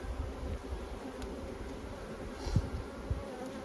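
Soft, steady buzzing of honeybees close by at an outside apiary hive, a low hum with a few brief knocks and thumps.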